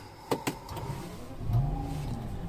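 Rolls-Royce Wraith engine cranking and catching, two sharp starter clicks followed by a steady idle that rises into a brief rev, close and clear with no talk.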